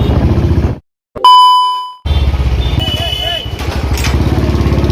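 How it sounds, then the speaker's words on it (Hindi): A motorcycle engine runs close by with a steady low rumble through most of the stretch, briefly cut by a gap and a tonal beep, then resumes under background sounds on a street outing. "देखिए गोटे बाइक"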